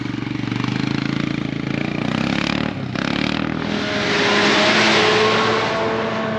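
A motorcycle engine revs hard on a high mountain road in Ladakh, a loud, sustained roar that dips briefly and then swells again as the throttle stays open.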